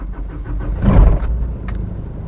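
A 2007 Ford Endeavour's 2.5 litre diesel engine cranks and catches, surging loudly for a moment before settling into a steady, close rumbling idle.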